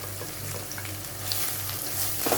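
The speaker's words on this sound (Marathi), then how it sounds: "आणि हे मसाले सुद्धा व्यवस्थित तेलामध्ये आपल्याला फ्राय करून घ्यायचे" Ground spices fry in hot oil in a pan while cooking Malvani-style stuffed brinjal masala, giving a steady close sizzle with a faint low hum and a soft stir near the end.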